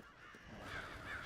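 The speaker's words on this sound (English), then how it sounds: "It sounds like the birds might be the enemy." Crows caw faintly and far off in the fantasy video game Fable 3, with a couple of soft, raspy calls over a steady, hushed ambient wash.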